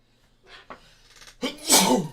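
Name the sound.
sneeze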